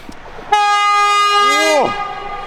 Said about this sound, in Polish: Ty, długi ten pociąg.